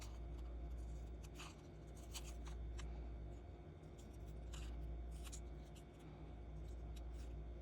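Scissors snip through paper to cut out a hand-drawn star, a series of faint, irregular clicks and crisp cuts, heard close but quiet over a steady low background hum.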